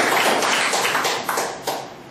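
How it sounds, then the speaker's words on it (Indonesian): An audience applauds at a university constitutional court debate competition, a dense burst of clapping that holds briefly, then thins and fades toward the end. "kita beri tepuk tangan untuk"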